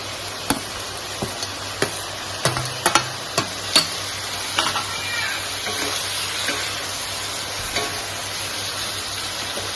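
Chopped chillies and tomatoes fry for a country chicken curry with potatoes, giving a steady sizzle broken by irregular sharp clacks and scrapes from stirring.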